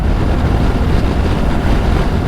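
Benelli TRK 702 X motorcycle cruising at speed, a steady loud broadband roar of wind rushing over the helmet mic with engine drone beneath, continuous without breaks.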